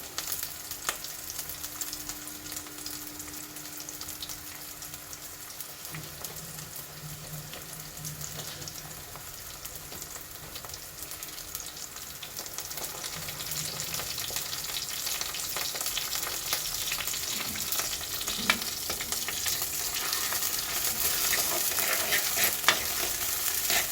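Onions fry in a pan with a steady, moderately quiet sizzle and occasional stirring, the crackle growing a little stronger toward the end.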